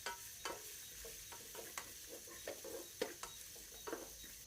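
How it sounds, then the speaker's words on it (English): Ginger and garlic frying in a pan, a soft steady sizzle under faint stirring scrapes and a few sharp clicks of a utensil against the pan. "we're going to add in our ginger and garlic, and we're going to cook that until it's done."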